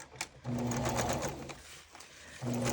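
A sewing machine stitches lace onto a Christmas junk journal, whirring steadily and close, stopping briefly before starting up again. No one speaks.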